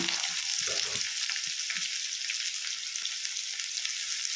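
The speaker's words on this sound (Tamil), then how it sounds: "பெரிய வெங்காயம் போட்டு எண்ணெயில் போட்டு நல்லா வதக்கிடலாங்க" Chopped large onions sizzle in hot oil in a pan for a Tamil egg curry, a steady close hiss with faint stirring knocks early on and no voices.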